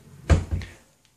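Drawer opened in a vacation rental kitchen: one short wooden slide and thump, close and fairly loud, then quiet.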